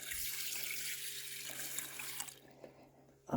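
Water poured from a tap into a cooking pot for a cup of wild rice blend, a steady broad rush running for over two seconds before tapering off, with a brief clunk at the end and no talking.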